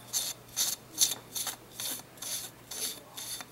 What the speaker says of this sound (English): So what you want to do is unscrew this part next.